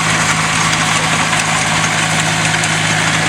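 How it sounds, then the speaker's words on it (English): An industrial tractor of about 100 horsepower from North Dakota idles steadily at an outdoor summer show in Madison, South Dakota, with a loud, close, even engine hum and a constant low drone throughout. "It's an industrial tractor, also from the same family in North Dakota."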